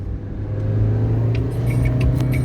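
Inside a Fiat Palio accelerating onto a São Paulo highway just past a toll booth, the engine drones in a steady low rumble that swells slightly, with faint ticks over it.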